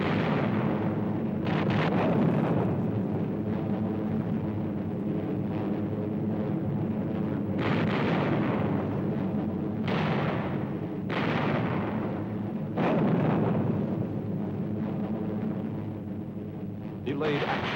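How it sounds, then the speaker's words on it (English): At a World War air power show, parachute fragmentation bombs explode: deep, booming blasts arrive in several spaced bursts over steady wind rumble, with a voice talking through them. "Fragmentation bombs attached to parachutes."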